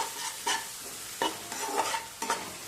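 Onions fry in a pan while being stirred, steady sizzling broken by several distinct scraping strokes of a spoon at a slow, irregular rhythm, close and clear with no talking.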